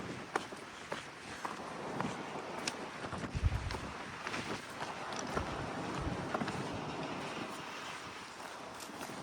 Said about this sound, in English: That wind is blowing that thing.